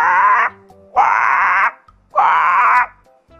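A human voice imitates a crow calling, giving three long, loud, drawn-out moaning caws separated by brief pauses.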